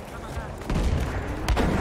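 Battlefield 5 gunfire crackles in a rapid, dense burst of close, loud shots, with a voice talking faintly underneath.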